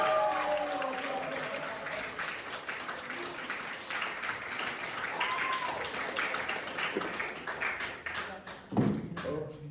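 An audience at a poetry slam in Kharkiv applauds a performer, a thick, continuous clatter of clapping lasting nearly ten seconds, with brief voices faintly mixed in.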